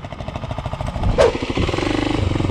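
Motorcycle engine running steadily with a rapid pulsing exhaust note, rising into a sharper rev partway through, loud and close with no talking.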